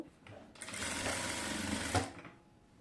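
A sewing machine runs in one steady burst of rapid stitching on a designer sleeve, starting after a short pause and stopping near the end, close and fairly loud.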